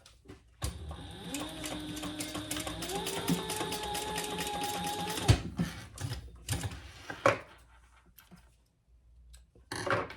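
A sewing machine runs a quarter-inch seam on a zipper tab placed right sides together, a whirring stitch burst of about five seconds followed by scattered clicks and handling noises.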